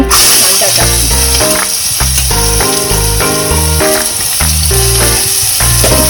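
Onion hits hot oil in a pan for masala corn and fries with a loud, continuous sizzle, set under steady background music.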